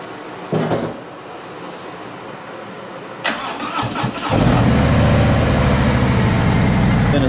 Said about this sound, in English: then we'll fire up the engine and let the oil circulate.